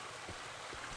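Rainfall in Morrowind, a soft, steady patter and hiss of rain, faint and continuous with slight gurgling texture and no voices.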